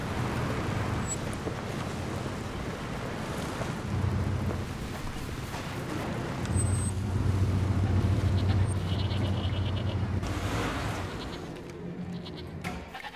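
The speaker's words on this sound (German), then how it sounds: "Ah, hier gibt es wenigstens Ziegen." Goats bleat amid the steady, loud ambient wash of the African wilderness in the video game Far Cry 2, their calls blending into a continuous rumbling background with no speech.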